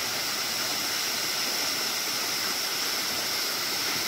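A mountain stream on the Sundarijal trail flows steadily nearby, a constant rushing, hissing wash of water that fills the whole stretch without pause and with no voices.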